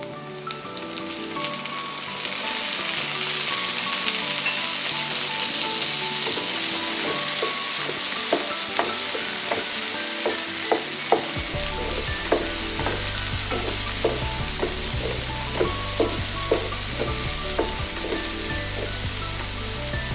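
Onion, green chili and ginger fry in a pan for tomato coconut chutney, a dense steady sizzle like light rain, then the pan noise deepens as tomato goes in, with scattered spoon clicks and stirring scrapes, no talking.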